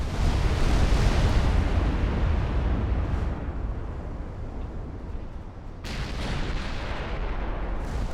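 Secondary guns aboard a warship fire in heavy, continuous rumbling volleys during an Ultimate Admiral Dreadnoughts naval battle, a dense booming wash with a sharp fresh blast near the end.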